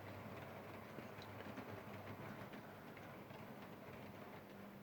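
OO gauge model locomotive running along layout track, a faint continuous rolling rumble with light clicking, steady and unbroken throughout, no voices.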